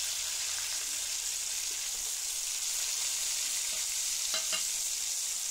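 Trevally fish frying in hot oil with curry leaves, a steady dense sizzle running throughout, close and fairly loud, with a couple of brief clinks near the end.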